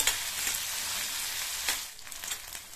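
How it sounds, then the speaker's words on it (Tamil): Eggplant sautéing in oil over a medium flame for a Tamil fenugreek curry gives off a steady, close hissing sizzle, with brief scraping stirs breaking through now and then. "இந்த கத்திரிக்காயை நல்லா எண்ணெயிலையே வதக்கி விட்டுக்கணும்"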